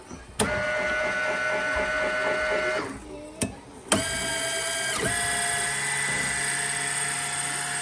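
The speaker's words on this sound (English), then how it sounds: "And then this is my 3D printer." A 3D printer running in a home workshop, its stepper motors giving a steady whirring, tonal hum with a few short clicks and a brief dip in pitch as the head changes moves, close and continuous.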